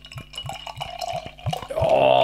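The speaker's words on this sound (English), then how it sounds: "Let's get the beer out into a glass and see what we get." Omnipollo Noa Pecan Mud Cake bourbon imperial stout glugging from a bottle into a glass, a run of rhythmic low gurgles that swell into a steady frothy pour at the end, close and fairly loud with no talk.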